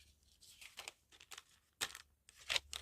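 Small packet of shaker contents being cut, a quiet run of short crinkly snips and rustles of plastic film, close up, with no voices.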